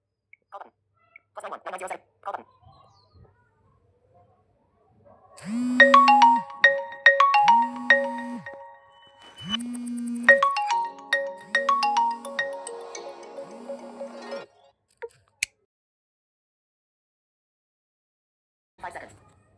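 A Vivo phone's incoming-call ringtone plays loud and close as a bright melodic tune in repeated phrases over a low buzzing pulse, with a few taps and clicks before and after.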